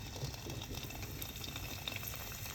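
Egg potato puri fries in hot oil, a faint, continuous bubbling hiss that stays even throughout, close by and without speech.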